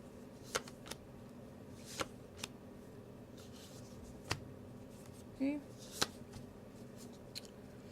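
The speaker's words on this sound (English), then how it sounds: "I'm going to pull some cards for your love life prior to me going into other aspects of your life" Tarot cards being shuffled and handled at a reading table, giving scattered quiet riffles and soft flicks against a faint steady background hum, with no talking.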